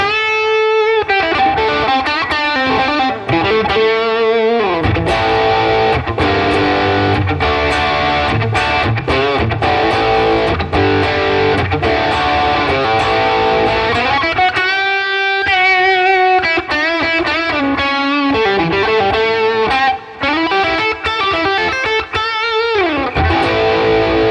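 A heavily distorted electric guitar through a digital amp modeler plays loud, continuous riffs and chords with a thick, saturated tone and no voices.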